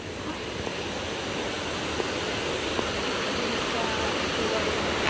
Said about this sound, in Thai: มีน้ำตกหลายชั้นมากเลยครับ